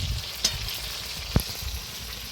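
Potato slices frying in hot mustard oil give a steady close sizzle, punctuated by two brief sharp knocks of a utensil against the pan, with no one speaking.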